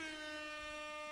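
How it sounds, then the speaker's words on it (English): A steady, sustained air horn blares as one continuous harmonic tone, fairly faint and distant, with no pauses. "Air horn. Yeah, they got the air horn."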